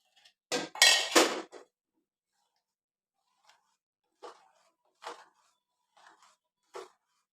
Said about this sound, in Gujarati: હંમેશા થોડી થોડી નાખીને ચલાવતું જવાનું.